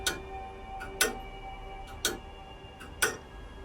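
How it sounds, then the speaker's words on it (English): An old-fashioned clock with brass inner workings and a swinging pendulum ticks slowly and evenly, four crisp ticks about a second apart, quiet and close with nothing else heard. "The brass inner workings of an old-fashioned clock tick slowly"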